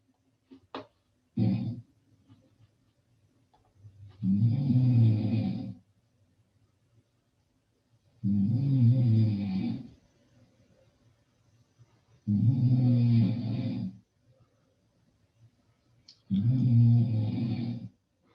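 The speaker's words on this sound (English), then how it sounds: "I'm not going to try and fake a snore, so we're just going to go to freesound.org and run one of the free samples" Four loud, slow snores played back from a recorded sample, each a long rasping breath of about a second and a half separated by quiet pauses, after a couple of brief clicks at the start.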